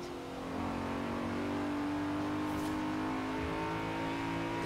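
Racing video game car engine holding a steady, fairly quiet drone with a brief rising rev partway through, running alone without talk.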